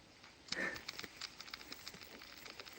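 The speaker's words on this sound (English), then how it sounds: "It's raining, but yeah." Light rain pattering outdoors during an e-bike ride, soft irregular taps and drips over a faint hiss, with one louder knock near the start.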